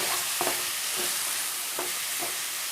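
Cooked banana stem frying in a pan with a constant close sizzle, broken by a few soft scrapes of a spoon stirring it.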